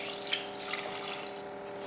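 Water pours into a pressure cooker holding mutton with turmeric, salt and chili powder, a steady soft splashing stream running for about two seconds at low volume under a faint constant hum.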